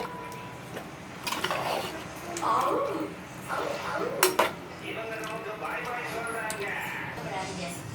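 A utensil scrapes and clinks against a metal pot as rice is stirred into boiling biryani, with a few sharper knocks and soft rustling in between.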